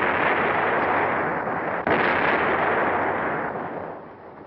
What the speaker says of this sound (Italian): Sono mesi che l'artiglieria batte lì su quei reticolati